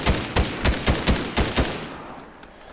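Rapid gunfire from the video game Fortnite, about seven loud sharp shots in quick succession followed by a short quiet stretch and one more shot at the end.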